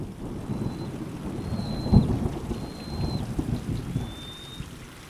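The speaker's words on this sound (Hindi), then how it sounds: "2 दिन हो गए थे, पर बारिश अब तक थमी नहीं थी।" Heavy rain pours steadily with rumbling thunder rolling underneath and one sharper, louder crack near the middle, a stormy downpour that goes on for days in a village during a destructive monsoon.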